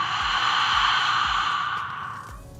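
A long, steady cleansing exhale through an open mouth during a yoga routine, soft and breathy, tapering off gently toward the end with no talking.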